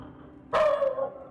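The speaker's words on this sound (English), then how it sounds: "You're the best goddamn dog." A dog in the horror video game Lost In Vivo gives a single short, clear bark, close and alone in an otherwise quiet moment.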